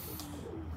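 Racing pigeons in a loft give low, soft cooing over a steady close murmur, with a couple of brief coos standing out near the end.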